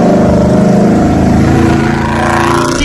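A loud, close car engine rumbles steadily with a throbbing low drone and no talking.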